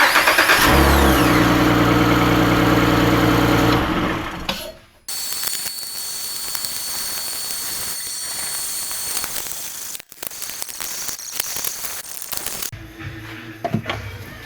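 Honda Ridgeline engine after a timing belt and water pump replacement, cranking, then running steadily and loudly close by with a tonal whine, one brief dip, and a rougher patch near the end.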